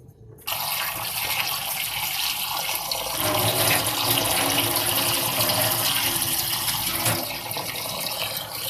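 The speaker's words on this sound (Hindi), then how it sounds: "मैं सारे आलू काट लिए। अब इनको दोबारा वॉश करते हैं।" Running tap water over cut potatoes being washed in a kitchen, starting abruptly and then a steady loud rush of water with splashing against the vessel, continuing unbroken to the end.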